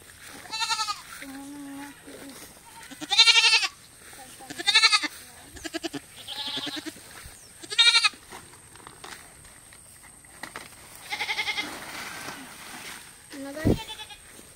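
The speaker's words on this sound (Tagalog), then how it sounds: "Ito yung kambing kong Siotot." A goat bleats repeatedly nearby, several loud wavering cries spaced a few seconds apart, with quieter sounds in between.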